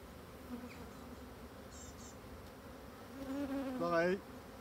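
Agitated colony of black honey bees buzzing around an opened hive, a steady droning hum with individual bees whining close past the microphone and growing louder near the end.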